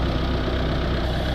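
A Vauxhall Vivaro diesel van engine, undergoing a DPF clean, idles at a steady, loud, close-up chug that holds evenly throughout, with no voices.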